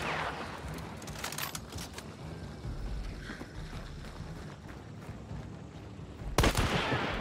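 Gunfire rings out in the video game Hunt: Showdown, with scattered distant-sounding shots through the clip and a sharp, louder burst near the end.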